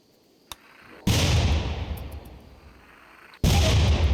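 Auto charge and mini slugger turrets firing in RimWorld: a sharp single shot, then a loud booming burst that trails off, and a second heavy blast near the end, with no voices.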